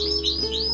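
A songbird that is moulting gives quick, bright chirps and tweets, close and fairly loud, repeating in short bursts over a faint steady hum, with no voices.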